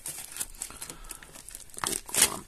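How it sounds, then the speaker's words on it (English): Plastic packaging crinkles and rustles close up as it is cut open with scissors, with a sharper tearing crackle near the end. "We'll use scissors for this top bit."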